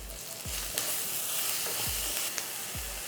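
Onions sautéing in a pan with curry leaves for a home-style lunch dish, a steady bright sizzle with a few soft stirring knocks, continuous and close with no voices.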